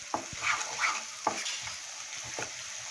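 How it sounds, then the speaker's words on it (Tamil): Onions sauté in a pan for a country chicken curry, giving a soft steady sizzle broken by a few quick scraping stirs, close and quiet. "நல்லா வெங்காயம் நல்லா வதங்கிட்டுருக்கு"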